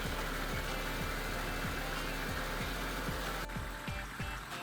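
Nissan GQ Patrol engine running steadily with a low, even rhythmic thrum as the truck is driven, continuous and close throughout.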